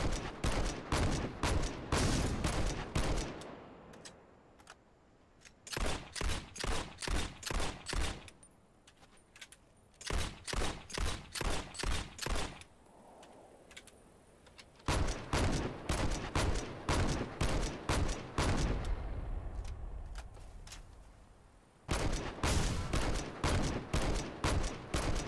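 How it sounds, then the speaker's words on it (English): Rapid bursts of gunfire aimed at a Warthog vehicle in Halo Online, loud sharp shots in quick rhythmic strings separated by short pauses, repeated across several volleys. "And let's shoot a warthog."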